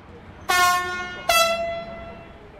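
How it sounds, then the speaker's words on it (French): A TGV horn in a train simulator game sounds two loud, close blasts, each fading slowly, with the second following less than a second after the first. "je mise tout sur le klaxon."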